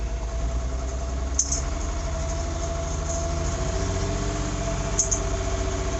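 A car engine idles steadily up close, with a constant low rumble, a faint misfire-like tick, and two brief high clicks over the drone.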